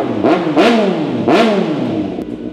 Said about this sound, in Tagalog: So sound check natin, unahin natin tong Z900.